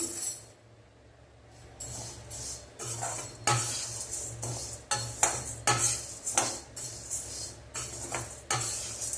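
Fenugreek seeds and chana dal dry-roasting in a pan, heard as repeated scraping stirs and clinks of a spoon against metal over a faint low hum, with a quiet pause near the start.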